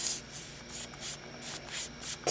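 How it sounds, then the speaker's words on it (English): Fingernails scraping across scrapbook paper on a mini Halloween folio, a rapid series of dry, hissy rubbing strokes close up, about eight quick scrapes with no talking. "My nails scraped across."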